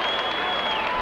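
A crowd at a 1987 indoor soccer match between the Canton Invaders and the Louisville Thunder applauds and cheers in a steady, loud wash of noise, with a broadcast voice faintly beneath it.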